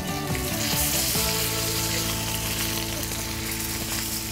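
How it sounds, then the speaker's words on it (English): Beef short rib searing in a pan on a home stovetop, a loud, dense, continuous sizzle with a few sharp shifts as the meat is moved, heard close with no talking. "just finish the sear up on the top and bottom again, just to make sure we get every bit of it seared up"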